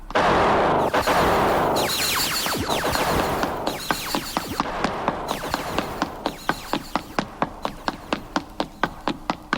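Gunfire in a Hitchhiker's Guide to the Galaxy radio drama: a loud opening blast, then a long run of sharp, evenly spaced shots that gradually thin out and fade.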